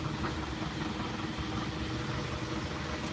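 A mini tractor engine runs at a steady idle nearby, an even low throbbing rumble with slight vibration and no change in pace.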